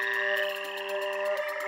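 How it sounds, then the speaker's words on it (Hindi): A chorus of frogs croaks as a sound effect: a steady, continuous drone with a quick, pulsing rattle on top, full and even throughout, with no voices. "और फिर खुदा ने पूरे मिस्र की जमीन पर मेंढक की तुगयानी भेजी।"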